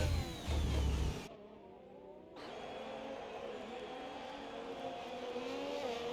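Ferrari Formula 1 car engine in an F1 video game at the Mexico Grand Prix, a loud high-pitched whine that shifts in pitch as it revs and changes gear, sustained and close.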